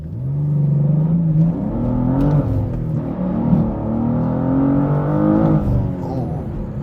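A 2024 BMW M2 Coupe pulls away from a standstill, its engine note rising steadily through the revs with a shift midway, heard from inside the car as a continuous, moderately loud drone.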